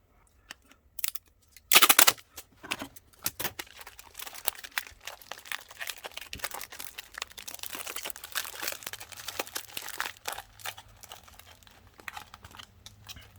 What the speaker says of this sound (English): Now we just want to tape this thing back together